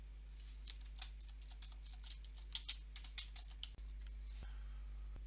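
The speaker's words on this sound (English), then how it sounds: "So let's type in some radio button labels." Quiet computer keyboard typing comes in short irregular bursts of clicking keystrokes over a steady low electrical hum, close and faint.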